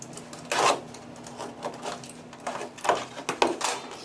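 A cardboard box holding a diaphragm valve is opened up close, giving a quick series of short crinkling, tearing and flap-rustling bursts, fairly quiet and irregular.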